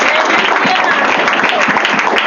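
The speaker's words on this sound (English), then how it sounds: "Clap for Jesus." A church congregation claps together in dense, loud, continuous applause that fills the space, with voices faintly audible among the claps.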